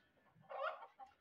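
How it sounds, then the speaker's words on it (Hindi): A pet parrot in a home kitchen gives a single short, faint squawking call that rises and fades quickly. "देखें तोते को हमारे"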